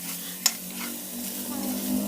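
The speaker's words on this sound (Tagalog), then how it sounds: "Prito muna natin sa kanyang sariling mantika." Steady sizzling of pork frying in its own rendered fat, with a brief sharp clink of a utensil near the start and a soft background hiss throughout.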